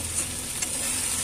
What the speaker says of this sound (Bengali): সবজিগুলো সব বন্ধুরা হালকা হালকা করে ভাজা হোক